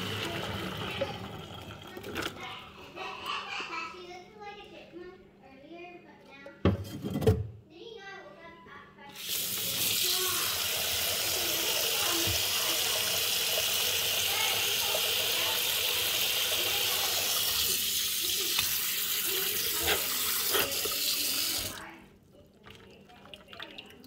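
Boiled keto spaghetti noodles being drained in a kitchen sink, with a steady rush of pouring water lasting about twelve seconds, preceded by faint clinks and a voice talking.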